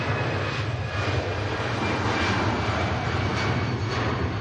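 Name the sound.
Lufthansa aircraft landing at Manchester Airport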